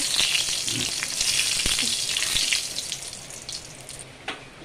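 Two dried red chillies fry in about three spoons of hot mustard oil, making a loud, close hiss and crackle that gradually eases off, with a few faint knocks of a utensil.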